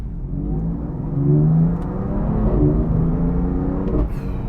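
A BMW M4 DTM Champion Edition, a road car with a factory exhaust, accelerates hard, its exhaust a loud, steady, rising roar that swells slightly midway and holds throughout with no voices.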